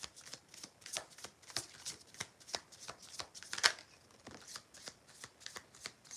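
A deck of cards shuffled by hand in a series of crisp riffling bursts, with one sharper, louder riffle near the middle and fainter flicks around it, close and without talk.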